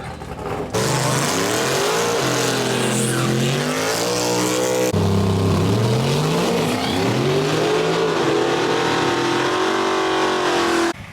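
A boosted drag race car makes a no-prep pass at OSW, its engine roaring loud and close as it launches and climbs through rising, shifting revs, staying steady and powerful for about ten seconds before cutting off abruptly.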